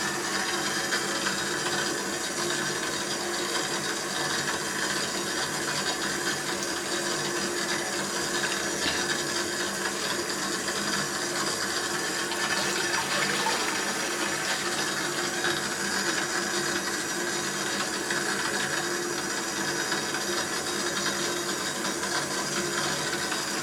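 Water spraying from a pipe onto passion twists hair, a constant, dense hiss of steady spray heard up close with no pauses and no talking.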